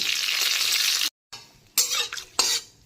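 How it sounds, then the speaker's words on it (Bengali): Dried red chillies and bay leaves frying in oil, a loud bright sizzle that drops out briefly, then returns in short bursts as the pan is stirred, with no talk. "তো শুকনো লঙ্কা তেজপাতাটাকে ভেজে নিয়েছি, দেখতেই পাচ্ছ।"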